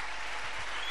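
A church congregation applauding during a worship service, a dense, steady wash of many hands clapping together with no pauses.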